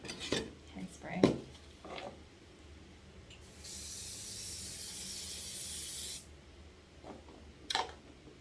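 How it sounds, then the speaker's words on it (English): A can of hairspray gives one steady hissing spray lasting a few seconds, close and fairly loud, with light clinks and handling noises before and after it. "hairspray."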